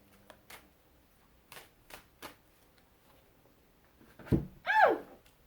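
Tarot cards are handled and shuffled in a few soft riffling bursts, followed by a couple of louder thumps and scrapes nearby.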